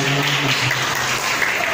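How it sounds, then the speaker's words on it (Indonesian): A classroom of students at an Indonesian Islamic middle school gives a short burst of dense, lively applause, close and continuous. "Tepuk tangannya untuk Mas Haikal."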